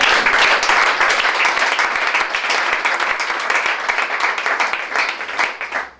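Dense, sustained applause from an audience at a religious preaching gathering; steady clapping holds at full strength for several seconds, then fades away at the end.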